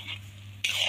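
Fenugreek seeds being roasted and stirred in a pan for methi gond laddu, a spoon scraping and clinking against the metal over a steady low hum, with a louder burst of scraping near the end.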